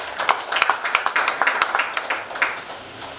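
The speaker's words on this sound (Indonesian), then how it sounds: "Kita beri tepuk tangan dulu buat Tuhan." Audience clapping at a family memorial evening gathering, a modest, fairly sparse round of individual hand claps that fades out after about three seconds.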